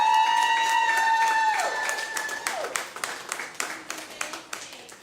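A comedy show audience in St. Louis claps for comedian Merritt, with dense applause that thins into scattered individual claps over about five seconds, under lingering tonal sounds at the start.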